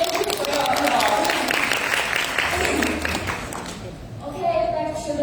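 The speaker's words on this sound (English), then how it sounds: "Thank you for your applause." An audience in a conference hall at a personal care technology summit in Jakarta gives a loud round of clapping that gradually thins out, with a speaker's voice coming in near the end.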